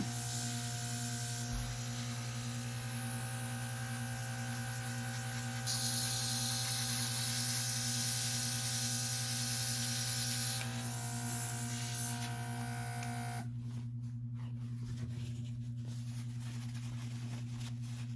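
A makeup airbrush spraying out cleaning solution: a steady hiss rises over a constant electrical hum for several seconds, then cuts off, leaving the low buzz alone.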